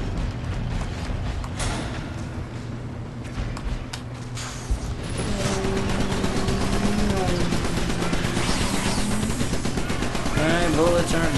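Turret gunfire in the game Iron Brigade, a steady rattle of rapid shots with mechanical clanks and creaks that grows denser and louder in the second half.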